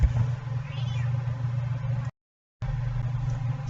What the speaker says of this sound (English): Cat decided to be annoying